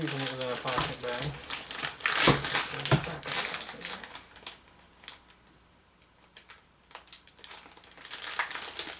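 A plastic bag crinkles and crushes in busy bursts beneath a person talking, then thins to sparse rustles before picking up again near the end.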